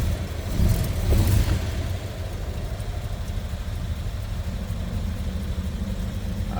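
A 1931 Pontiac 200 cubic inch L-head inline six starts and settles into a steady, close idle, with a brief louder surge during the first couple of seconds before an even running drone.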